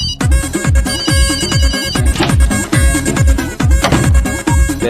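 A mobile phone ringtone sounds as a call is placed in a Telugu comedy film scene. A loud, bright melodic pattern repeats at a steady pulse throughout, with no speech over it.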